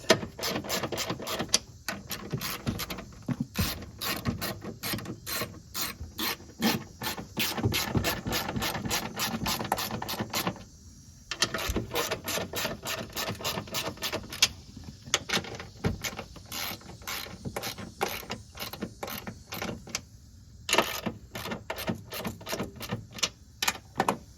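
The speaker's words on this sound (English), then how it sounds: "now I'm going to go ahead and tighten the 3 top screws for the strut" Rapid clicking of a ratchet tightening the three top strut screws on a Subaru Ascent, in repeated bursts with short pauses between them, close and crisp.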